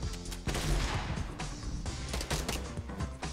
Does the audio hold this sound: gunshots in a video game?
yes